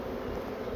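Honey bees hum in a steady, dense drone around hive frames during a colony inspection, close and continuous for a brief moment.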